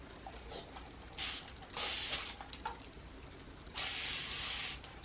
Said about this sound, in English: I should probably spray it first.